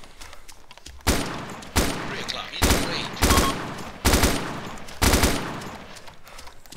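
Bursts of gunfire in an Arma military video game, a series of loud sharp volleys roughly every second with brief decaying tails, followed by a short spoken word.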